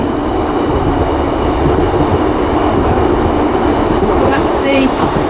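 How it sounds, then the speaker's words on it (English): A train rushes past at speed on the Middlesbrough to Whitby line near Egton Bridge and Grosmont, a steady loud rumble filling the whole stretch with no break. "I can just hear a train coming. Very fast. Oh, it's going past."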